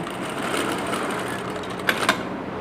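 A domestic sewing machine runs in one steady, continuous whirring stitch at close range while a garment is altered, with the presser foot held down by hand; two brief clicks or taps stand out near the end.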